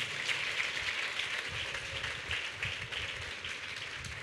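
A church congregation applauds during a sermon, giving a steady, fairly faint round of clapping that continues without pause.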